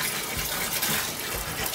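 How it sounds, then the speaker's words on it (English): Water pours steadily into a home brew pale ale beer kit mix to thin a pasty batch, a continuous close rushing fill heard alone. "I'm gonna add a little bit more water because it just seems a little pasty"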